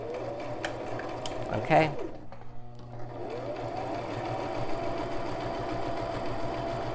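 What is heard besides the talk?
Brother LX3817 sewing machine stitching zig-zag satin stitches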